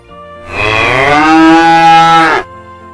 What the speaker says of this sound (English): Now cow. What cow is doing?